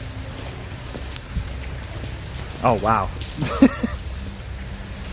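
Heavy rain falls steadily outside as a dense, even hiss through the whole stretch, while people talk and exclaim over it in short bursts midway.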